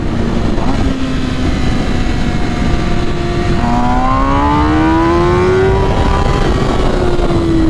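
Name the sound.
MV Agusta Rush motorcycle accelerating through gears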